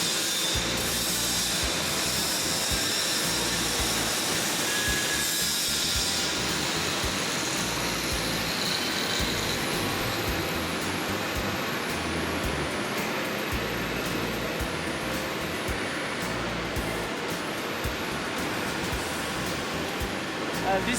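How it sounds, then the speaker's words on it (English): A flow beam extrusion line runs inside a factory, giving a dense, continuous mechanical clatter with ratcheting and gear-like ticking and high whining tones throughout. "This is our flow beam extrusion line."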